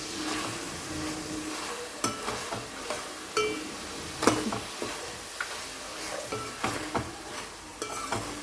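A spoon scrapes and knocks around a pan of fish curry with turmeric, producing faint irregular clinks and stirring scrapes over a low sizzle, with no talking.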